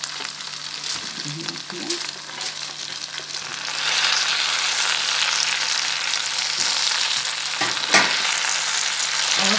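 Tomatoes fry and get stirred in a pan for a quick pasta, a steady close sizzle with clattering spoon strokes; a brief voice speaks near the start.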